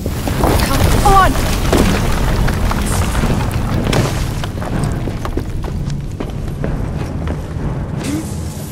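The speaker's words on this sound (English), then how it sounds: "What was that explosion?" An explosion in the Assassin's Creed Syndicate video game, heard as a loud, low rumbling boom that fills the clip and slowly fades, with wind-like noise and faint game sounds over it.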